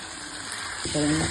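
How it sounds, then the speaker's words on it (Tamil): Okra fries in a pan with coriander powder, chilli powder, green chillies and masala, giving a steady close sizzle, joined near the end by a brief stir and a faint tonal sound. "தனியாத்தூள், மிளகாத்தூள், பச்சை மிளகாய், வெண்டைக்காய் எல்லாமே நல்லா ஃப்ரை ஆயிடுச்சு"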